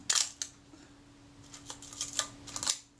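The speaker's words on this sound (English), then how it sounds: "Shutter works." A Zeiss Ikon Contarex Bessamatic camera is fired on the bench, giving a sharp click followed by a run of lighter mechanical ticks and snaps from the film release lever and shutter, heard close up.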